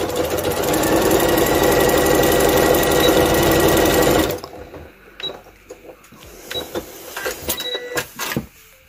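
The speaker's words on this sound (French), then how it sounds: "On coud tout le long. Mais bord à bord." A sewing machine stitches the edge of a fabric pouch in a loud, continuous run for about four seconds, then stops, leaving quieter handling clicks and rustles.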